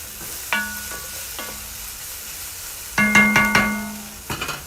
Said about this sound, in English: we're just going to add about 2 teaspoons of granulated garlic. Give it a quick stir.